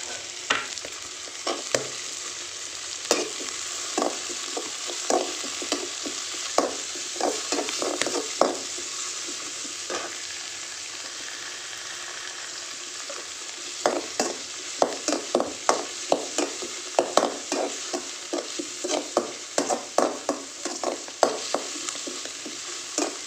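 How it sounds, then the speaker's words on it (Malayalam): Onion and tomato sauté in a hot pan for a chicken curry with coconut milk, a steady bright sizzle punctuated by irregular clacks and scrapes of a spoon stirring. The stirring comes in bursts near the start and later, close and clear, with no talking. "സവാള നന്നായിട്ടൊന്ന് വഴറ്റി കൊടുക്കുക"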